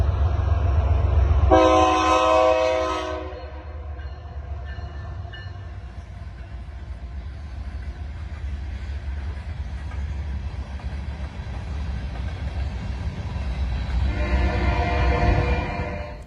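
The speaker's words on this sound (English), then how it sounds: "There's a train coming somewhere. You can hear it." A train rumbles past with a loud, continuous roar, its horn blaring near the start and again toward the end, no voices.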